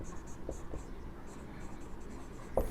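Chalk or marker strokes from a teacher writing the word sulfates on a board during a chemistry lesson, a few short scratchy taps against quiet room tone.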